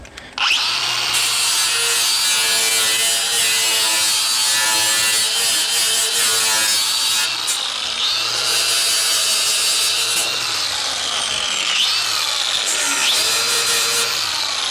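Sandpaper worked over a car body panel during a restoration build, a loud, continuous close-up abrasive rasp that holds steady for the whole stretch, with brief shifts in pitch as the stroke direction changes and no talking.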